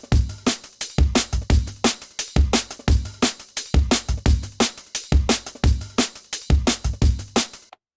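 A drum group processed with parallel stereo widening plays a tight, driving drum and bass style loop of punchy kicks, snares and bright cymbals, loud and close, with no voices.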